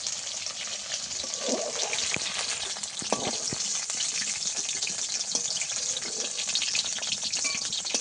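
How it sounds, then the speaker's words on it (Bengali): Okra fries in hot oil with a continuous crackling sizzle, close and fairly loud, broken by occasional stirring clicks and scrapes. "এগুলো আমি ভেজে নেব।"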